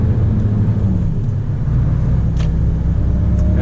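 Mercedes Actros 2541 truck with a 410-horsepower engine pulling a trailer, heard from the cab as a steady, loud low engine drone and road rumble with no pauses.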